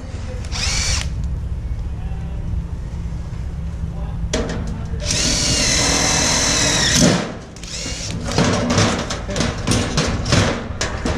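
Power drill driving screws into a metal stud box beam for framing, with a short burst near the start and a longer whirring run in the middle, followed by clattering handling sounds and some talk nearby.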